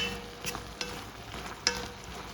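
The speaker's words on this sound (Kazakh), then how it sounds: "Бұл жерде менде жаңағы ет қайнап пісіп жатыр." Meat for funchoza cooks in a hot pan, a quiet steady simmer and sizzle with a few soft stirring clatters, no voices present.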